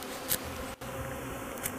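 Honeybees fly around a hive in early spring, a dense, continuous close buzzing with occasional louder passes near the microphone and a brief dropout midway.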